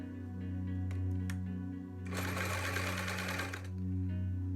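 A sewing machine stitches a fabric face mask with elastic bands: a few single needle taps, then a close, loud, rapid mechanical whir for about a second and a half before it stops, over a constant electrical hum.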